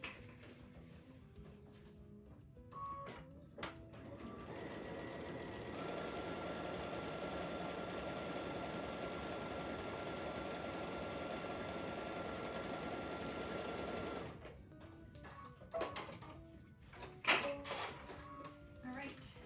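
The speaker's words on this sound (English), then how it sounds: "then we're going to sew on line number 2" A sewing machine stitches a seam on a quilt panel, running steadily for about nine seconds in the middle with a fast continuous whirring hum, bracketed by softer handling clicks and quiet talk before and after.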